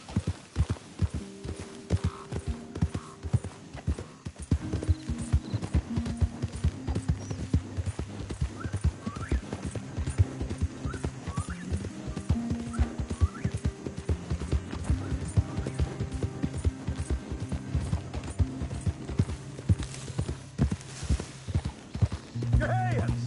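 Horse hooves trot in a steady clip-clop rhythm through the Red Dead Redemption 2 video game, close and continuous over a low musical hum, with a brief whinny and some voices speaking.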